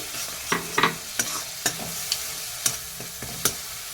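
Ground mustard paste frying in a pan with spices, stirred by a spatula that scrapes and taps against the metal about every half second over a faint, steady sizzle, close up and without any voices.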